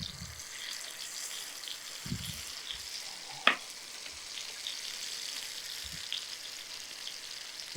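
An egg fries in a hot pan with a steady soft sizzle and crackle, punctuated by a couple of sharper pops and low knocks, village-style cooking.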